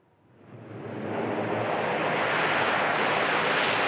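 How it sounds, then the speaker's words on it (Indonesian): A US bomber aircraft landing in the Middle East, its engine roar swelling over the first second into a loud, steady broadband rush that holds close and constant with no voices. "Presiden Amerika Serikat Donald Trump membagikan video pesawat bomber AS mendarat di Timur Tengah."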